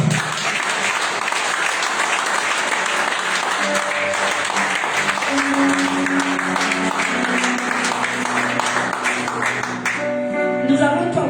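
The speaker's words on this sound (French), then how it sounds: "Acclamez Dieu, s'il vous plaît." A church congregation bursts into sustained applause acclaiming God, a dense wash of clapping that holds steady throughout, with some voices and a sung or organ-like tone rising underneath toward the end.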